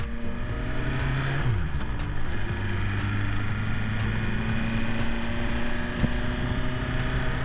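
Engine of a 2021 Suzuki S1000 motorcycle running with its rev limiter removed, a steady loud drone with pitch rising and falling through several revs and shifts, continuous and close, with no talk over it.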